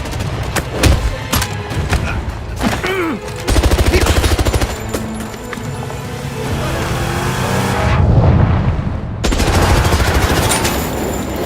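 Rapid gunfire bursts from a first-person shooter video game crack over roaring engine and game noise, with heavy volleys and booms that come and go across the dense, loud mix.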